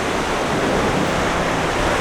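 Ocean waves at Mal Paso Beach in Sayulita, Mexico, a steady, broad surf wash with no distinct breaks, close and fairly loud, touched by some wind.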